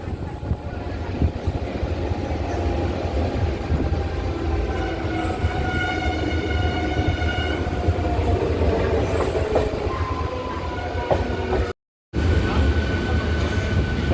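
An EMU local train on the Howrah–Digha line rolls into Santragachi junction station, its steady rumble and clatter loud and continuous, with a horn's drawn tones rising over the wheels midway before a brief dropout.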